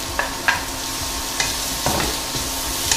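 Carrots stir-frying over very high heat in a hot non-stick wok with a little sunflower oil, a steady close sizzle broken by short scraping stirs.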